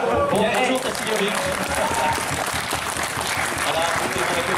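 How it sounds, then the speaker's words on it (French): An audience at a BronyDays convention in Nantes applauds, a loud steady crowd clapping with cheering mixed in and voices talking over it. "écoutez mon applaudissement"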